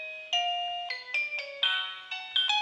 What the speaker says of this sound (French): vous avez une note de musique, ce qui vous permet de sélectionner en fait la mélodie de la sonnerie